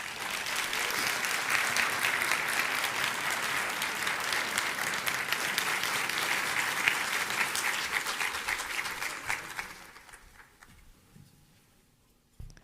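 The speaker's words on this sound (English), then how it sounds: "that deserves another round of applause" A church congregation applauds after a sermon, with sustained dense clapping that holds steady and then fades out into near quiet.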